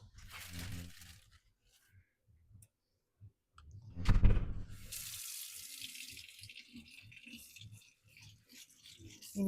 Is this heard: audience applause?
no